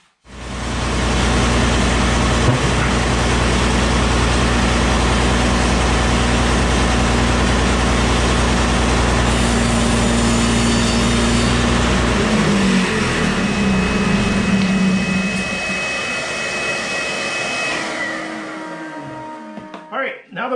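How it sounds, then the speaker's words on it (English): A wooden board is ripped to 2 inches on a shop saw. A loud, steady whine holds for about fifteen seconds, then the cut ends and the blade spins down, with talk faintly beneath. "So we're going to rip that again now to 2 inches"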